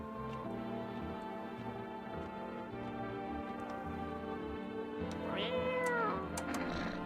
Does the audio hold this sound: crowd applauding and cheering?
no